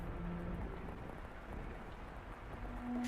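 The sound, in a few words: rain falling outside in The House in Fata Morgana video game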